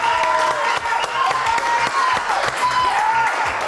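A TV studio audience claps loudly and steadily for a few seconds, dense applause with a little cheering and music in the background.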